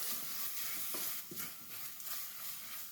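A spoon stirs chopped jaggery as it melts in a pan, making soft scraping strokes over a faint, steady sizzle. The sound is quiet and close, with no talking.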